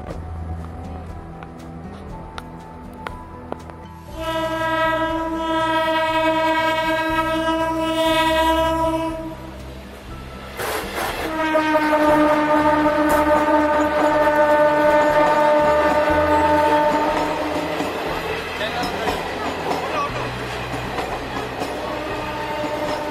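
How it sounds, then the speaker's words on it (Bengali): A train passes near a rail line on a road trip through the Dooars, sounding two long, loud horn blasts over a heavy rolling rumble and clatter of wagons that continues after the horn. "ট্রেন আসবে এখন।"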